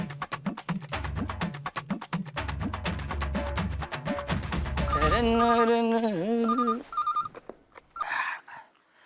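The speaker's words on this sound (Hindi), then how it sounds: "अय्यर को फोन लगाता हूँ।" A melodic telephone ringtone chimes in bursts over busy background music, with a brief rise at the end.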